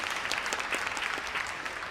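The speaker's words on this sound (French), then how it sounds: "Applaudissements, s'il vous plaît." Convention audience at a Toulouse fan event applauding in a dense, continuous burst of many hands, close and steady without speech.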